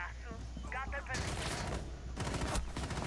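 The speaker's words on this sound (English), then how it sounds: "someone's shooting at me through the wall" Gunfire coming through a wall in Rainbow Six Siege, sounding as muffled rapid shots and bursts mixed with game sounds over about three seconds, with a voice talking partway through.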